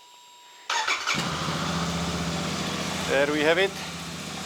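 Royal Enfield Super Meteor 650 motorcycle, fitted with a newly installed rear belt drive, cranks and fires up close by, then settles into a steady, throbbing idle with a brief blip of revs while someone talks over it.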